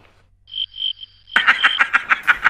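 Cricket chirping sound effect in a TV advert: a few thin high chirps, then a louder, rhythmic run of repeated pulses up close.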